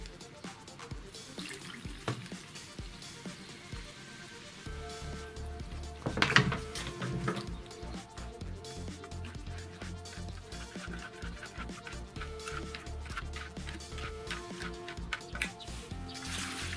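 Water pours into a jar packed with cucumbers and tomatoes for lightly salted pickles, with mustard added. A steady trickling splash starts after a few seconds of quieter handling noise and continues to the end.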